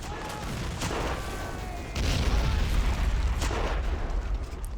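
Mortar blasts and gunfire from a World War I battle in the video game Battle of Empires: 1914-1918, a dense continuous din of booming impacts and crackling shots that swells louder midway, with no clear talk over it.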